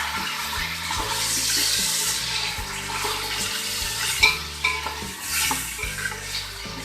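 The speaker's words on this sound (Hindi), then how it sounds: "अब इसे अच्छी तरह हम फ्राई करेंगे।" Meat frying with ginger garlic paste for Afghani Kabuli pulao, a steady close sizzle with stirring scrapes and clinks of a utensil against the pot throughout, with no talking.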